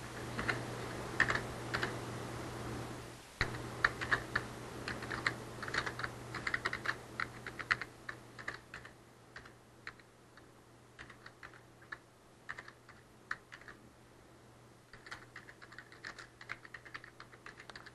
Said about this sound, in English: I'm probably a four-finger typer or maybe a five-finger typer on a good day